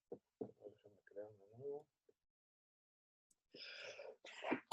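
A single sharp sneeze bursts out near the end, loud and close, following a stretch of classroom talk and a brief pause.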